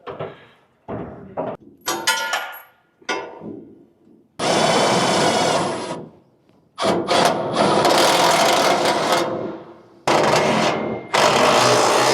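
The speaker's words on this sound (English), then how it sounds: "I just drilled a hole through the bracket and then through the frame" A power drill whines in repeated bursts, biting through a metal bracket and vehicle frame with a loud grinding buzz, stopping and starting several times, with short quiet gaps between.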